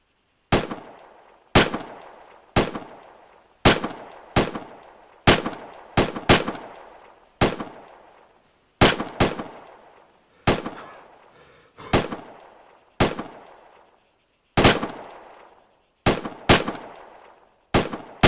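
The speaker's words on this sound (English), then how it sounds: "Irby, fire your weapon. 16 rounds." Sixteen rounds fired from a personal weapon on a training range, each a loud, sharp crack with a short decaying echo, spaced unevenly about a second apart with no talking.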